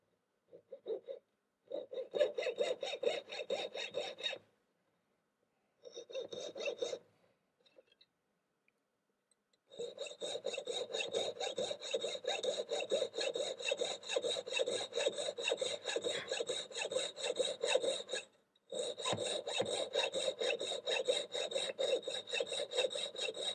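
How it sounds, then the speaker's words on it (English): A simple ring is cut and then trued with a fine cut file, giving steady close rasping strokes in long continuous runs broken by a few short pauses, with no talking. "And I can cut that off and file it true."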